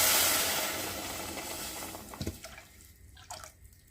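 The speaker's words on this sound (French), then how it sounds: "Au bout de ce temps, j'ajoute mon lait" Milk pours into a pot of buttered rice, a liquid splash and trickle that starts strong and fades, ending in a few faint drips and clinks.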